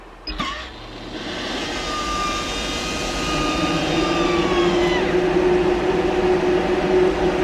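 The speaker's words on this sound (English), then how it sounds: "So let me show you our diesel heater." A diesel heater in a Sprinter campervan starts with a click, then a steady blower whine and hum build and hold loud and close, a smooth continuous mechanical drone.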